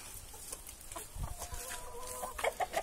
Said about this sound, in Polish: Jak widzimy, kury teraz już dostały jarmuż.